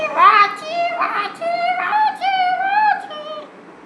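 A voice imitates a donkey braying: a few loud, close, drawn-out hee-haw calls that rise and fall in pitch, strained and nasal, repeated in quick succession over a few seconds.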